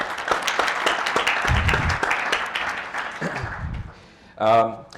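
An audience at an evening forum on religion, journalism and international affairs claps, with scattered claps fading over a few seconds, followed by a short burst of a voice at the end.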